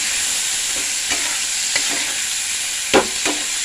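Onion, green chilli and tomato being stir-fried in a pan after a fish head was fried, a constant loud sizzle broken by a few spatula scrapes and knocks, up close without talk.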